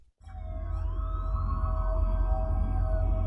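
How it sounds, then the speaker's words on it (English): Police sirens wail through a rainy night storm, a rising tone swelling over a heavy, continuous rumble of rain and wind, growing louder after a brief silent start. "Police sirens pierced the storm."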